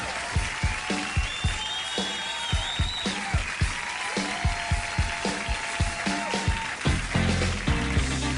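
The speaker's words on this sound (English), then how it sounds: "The audience applauding along as if this were a hoedown." A late-night television studio audience claps along in a steady rhythmic beat, loud and close, like a hoedown clap-along, with music tones running underneath.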